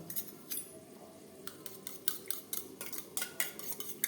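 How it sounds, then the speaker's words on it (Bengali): A spoon stirs and scrapes in a bowl of yogurt with turmeric and roasted spice, giving repeated soft clinks at an uneven rhythm, close and fairly quiet. "টক দইয়ের সাথে হলুদের গুঁড়ো ও ভাজা মশলা বেশ ভালো করে মিক্স করে দেবো"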